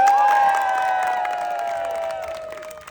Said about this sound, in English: Let's give him a real round of applause.